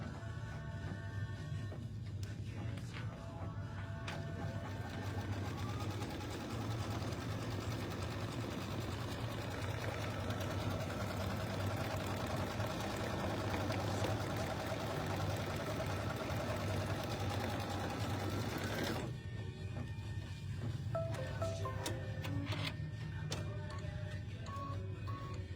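Sewing machine stitching a quilt, a steady, continuous mechanical whir and hum running close and unbroken, easing to a lighter, thinner hum near the end.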